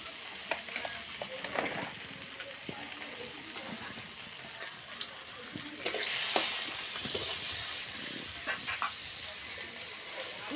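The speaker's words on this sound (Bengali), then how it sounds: "এখানে আবারও পেঁয়াজ টমেটো একসাথে নাড়াচাড়া করা হবে" Onions and tomatoes frying together on a clay stove, a soft close sizzle and hiss broken by scraping stirs and clinks, with a louder burst of sizzling partway through.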